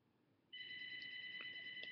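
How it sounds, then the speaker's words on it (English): A house phone rings from about half a second in, a steady electronic trill held through to the end, fairly close and alone with no talk over it. "my house phone's going off"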